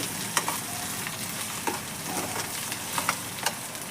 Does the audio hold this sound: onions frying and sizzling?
yes